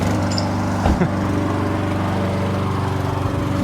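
A lawn mower engine drones steadily and close by, a continuous buzzing hum with a brief bump in tone near the start.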